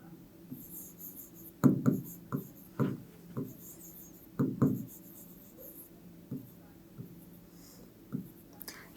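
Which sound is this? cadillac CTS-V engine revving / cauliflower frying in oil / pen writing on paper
pen writing on paper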